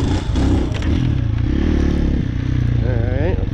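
A Lifan Xpect motorcycle engine revving hard and steadily during wheelie practice on wet, tall grass, loud and close with a rough, continuous drone and a rising pitch toward the end.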